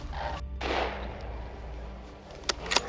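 A hunting rifle fired at a charging bear in the woods: a single loud, sharp report at the start, followed by a few fainter knocks and rustles, with no talking.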